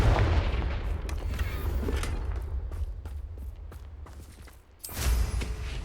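Confringo fire spell blasts in the video game Hogwarts Legacy: a dense, booming explosive roar with crackling bursts, fading slightly before a second loud blast swells near the end, with no talking.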